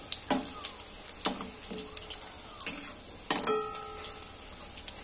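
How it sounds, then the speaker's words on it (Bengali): Mung dal puli frying in a pan on low heat, a quiet, thin sizzle broken by light, irregular clinks and taps of a utensil against the pan, close by, with no speech. "তো হালকা আঁচে ভেজে নিতে হবে"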